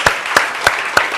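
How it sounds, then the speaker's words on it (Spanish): Inside a church, four loud, sharp claps fall in steady unison, close and evenly spaced. "Démosle un aplauso, Señor."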